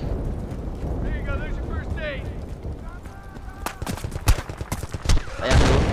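Video game gunfire in an attack match crackles in scattered bursts and sharp cracks, growing louder toward the end, with a voice speaking over the shots.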